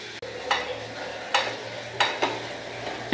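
Asafoetida dropped into hot oil, a continuous sizzle broken by several sharp bursts of spattering at irregular intervals, close and fairly loud, with a low hum underneath.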